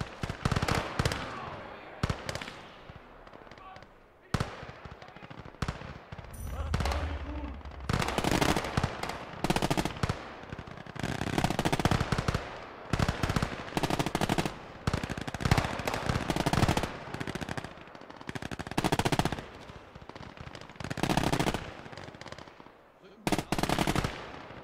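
Dense gunfire in the World War II game Gates of Hell Ostfront, with rapid machine-gun bursts and single shots crackling almost continuously, loud and close with brief pauses, and voices talking over the battle.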